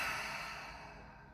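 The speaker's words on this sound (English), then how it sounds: "Just taking one more deep breath." A slow, deep breath during a guided breathing exercise, a soft airy exhale that fades gradually, close and quiet with no talking.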